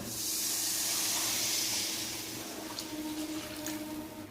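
Water poured onto hot fried spice paste for a fish curry sets off a loud, broad steamy hiss that slowly fades to a softer simmer, with no voices.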